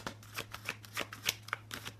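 Oracle cards are shuffled close by in a quick run of crisp, papery riffles and taps, about a dozen sharp slaps in steady rhythm over a faint low hum.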